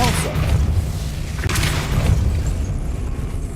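The Depulso spell fires in the video game Hogwarts Legacy with a deep, booming burst and a rumbling low tail, followed by a second softer thump.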